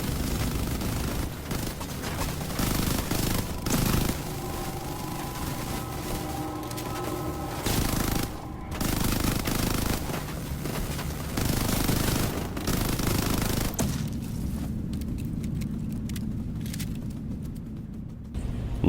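Rapid automatic gunfire aimed at turrets in Warface on the Earth Shaker mission, bursts of loud, close shots repeating in clusters with brief pauses, ending in a quieter stretch of mechanical background.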